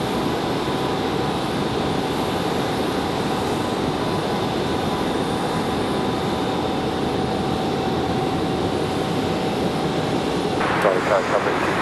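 An airliner taking off from runway 5 left at Raleigh-Durham International Airport, a steady loud engine roar with a high whine, heard at a distance and holding throughout, with voices talking over it.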